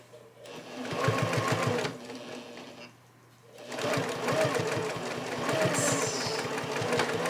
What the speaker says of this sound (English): Find that 1/4 inch, mark it, and start sewing